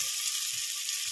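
Sliced onions hitting hot oil in a pan while egg biryani is cooked, a bright continuous sizzle heard up close with a few soft low thumps underneath.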